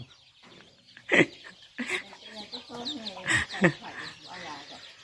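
Chickens clucking around a rural Thai home in the morning, several bursts of close, throaty clucks spread through the clip with quieter rustling in between.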